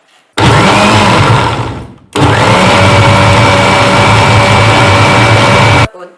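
A mixer grinder purees tomatoes for homemade sauce in two loud, close bursts, a brief whirring run followed by a short pause and then a longer steady high-pitched grind that cuts off abruptly.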